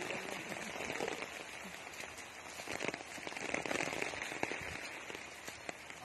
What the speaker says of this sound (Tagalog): Nabot ng malakas na ulan.